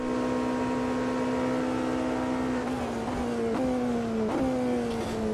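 Race car engine in the Automobilista 2 racing sim, a steady high-pitched drone that climbs and drops sharply with several quick gear shifts, loud and close throughout with no talking.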